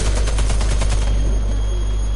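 A rapid burst of automatic gunfire in a video game rattles for about a second, then gives way to a steady low rumble, loud and close.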